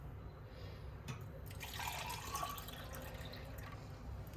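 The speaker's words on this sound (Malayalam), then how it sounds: "രണ്ട് ഗ്ലാസ്സിലേക്ക് ഒഴിക്കാം." Juice is poured into two glasses in a home kitchen, a faint, soft liquid trickle and fill heard quietly at close range with no talking.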